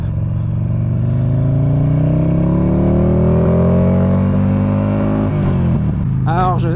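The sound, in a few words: Buell XB12S motorcycle engine revving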